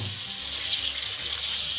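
A tablespoon of water splashes into spicy potato masala in a pan, giving a brief, close hiss and sizzle as it is stirred in.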